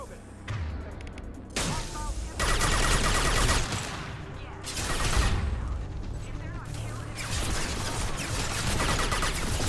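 Gunfire in the video game Mass Effect 2, bursts of rapid shots and heavier blasts rising and falling across the scene, with a voice speaking over the combat.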